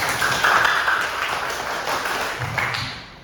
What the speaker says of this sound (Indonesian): Tepuk tangan untuk CV Selamatan.